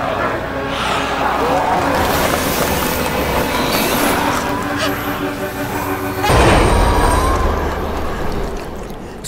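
A train rolls along with a loud, continuous rumble and metallic grinding in a dramatic scene. The noise surges louder near the end, with voices faintly mixed in.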